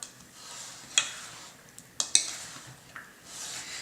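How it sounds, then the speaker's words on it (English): Mozzarella Caprese salad is stirred in a bowl with a utensil, giving a faint wet swishing broken by a few light clicks and taps against the bowl at roughly one-second intervals, with no talk. "Make sure you get it really stirred up well so that all those mozzarella balls break apart."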